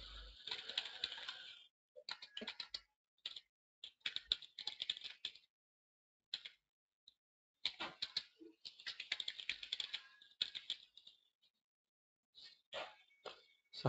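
A computer keyboard clatters in short bursts of quick keystrokes separated by pauses as a product review for a purchased Steam game is typed, the clicking quiet and close with no voices.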